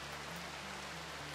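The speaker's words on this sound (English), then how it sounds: "What a perfect time for rain." Rain falling in the RimWorld colony-building game in a rainforest setting, a soft steady hiss of patter with no distinct drops, brief and even throughout.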